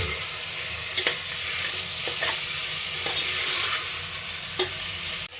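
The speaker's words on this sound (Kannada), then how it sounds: "ಟೊಮೊಟೊ ಅದು ಸ್ವಲ್ಪ ಹೊತ್ತು ಫ್ರೈ ಮಾಡ್ಕೋಬೇಕು" Tomatoes frying in a pan for chicken pulao, a loud continuous sizzle with a few sharp scraping stirs of a spoon against the pan, close by and without talk.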